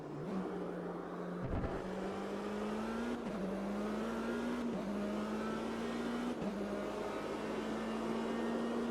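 Race car engine in the Automobilista 2 racing simulator, a steady high-revving drone climbing through gears with brief dips at each upshift, loud and continuous with no talk.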